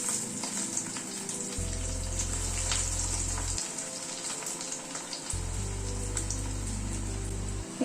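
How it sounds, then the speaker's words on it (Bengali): Snacks fry in hot white oil in a wok, giving a constant close sizzle and crackle with no talking. "কড়াইতে সাদা তেল বসিয়েছি, তেলটা গরম হয়ে এসছে,"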